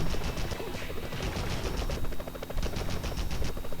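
Rapid bursts of automatic gunfire from the Spider-Man 2000 video game rattle continuously and loudly, dense overlapping volleys with no break in the firing.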